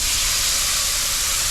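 Scallops searing in a very hot pan, a loud, dense, continuous hiss of fat and steam right up close, unbroken for its whole short length, with no voices.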